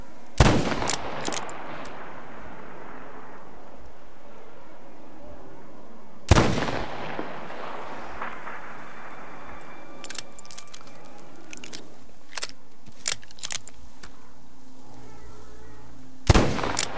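Several sharp, loud single gunshots from the player's gun in the video game Metro Exodus, spaced seconds apart with fading reverberant tails, plus small clicks and faint ambience between shots.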